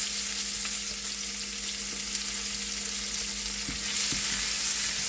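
Half an onion frying in a pan while being stirred for an orange peel curry, with a constant close sizzle, occasional spoon scrapes against the pan and a faint steady hum.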